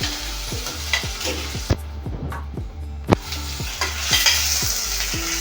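Onion, garlic and tomatoes frying in a pan while being stirred, a steady sizzle broken by a regular series of scraping stir strokes and a few sharper knocks of the spoon against the pan, close and without talk.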